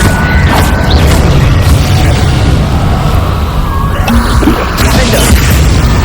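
A sustained Incendio fire blast in Hogwarts Legacy roars loud and continuous for several seconds, with crashing, crackling textures layered over a heavy rumble.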